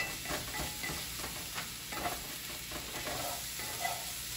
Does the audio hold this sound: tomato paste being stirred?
yes